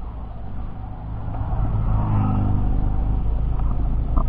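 Stock Yamaha NMAX 155 VVA scooter engine running steadily at top speed near 120, a continuous low drone with a sustained rumble, heavy wind buffeting the microphone throughout, no talking.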